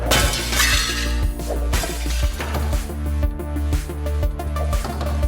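Glass shatters again and again in the video game Smash Hit, loud crashing breaks and clinks over a pulsing electronic soundtrack, with repeated impacts spread across the whole stretch.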